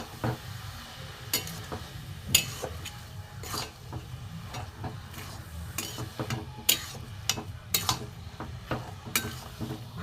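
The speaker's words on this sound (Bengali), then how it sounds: "এখন গুড়টা সবে গলেছে, ভাজা ভাজা হোক।" Jaggery and grated coconut frying in a pan for milk gokul pitha, with a soft steady sizzle broken by repeated close scraping and clacking strokes of a spatula stirring the mixture.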